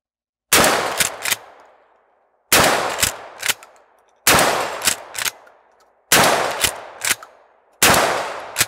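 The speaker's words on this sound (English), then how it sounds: "So I'm going to fire off this mag tube." A Mossberg 500 shotgun fires five loud, sharp blasts at roughly two-second intervals, each boom followed by a quick mechanical clack and a fading echo, with no talking.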